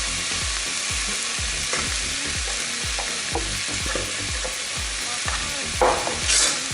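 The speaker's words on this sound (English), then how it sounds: "we're just going to fold that mixture into it" Grated cheddar being folded into a sizzling cheese steak mixture in a pan, with steady frying hiss under repeated scraping stirs, close by, with no talking.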